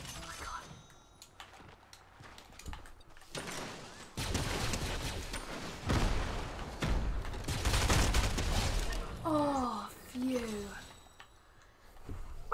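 Rapid bursts of gunfire in a Star Wars-themed guns-only Fortnite match, loud crackling volleys in clustered runs with a quieter stretch first, ending with brief higher game effect tones; a player talks intermittently.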